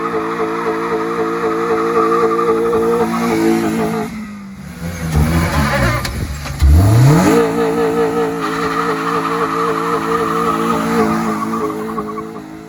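A turbo Honda Civic's K24 engine screams against its rev limiter during a two-wheel burnout, with a dip in the middle before tire squeal and high revving return, loud and close.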